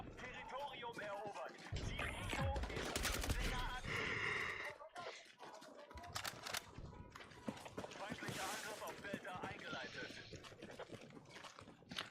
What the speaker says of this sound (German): Aber sie schießen auf dem grossen Dach oben.